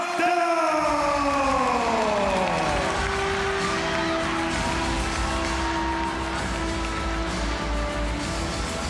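A sellout crowd inside Impact Arena in Bangkok, Thailand, at a Muay Thai fight night, a dense, steady roar of cheering and noise filling the hall, with a descending siren-like tone at the start.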